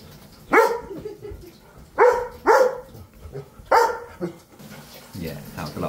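A dog barks four times in short, loud bursts, two of them close together, with quieter ambient noise between and no talk over the barks.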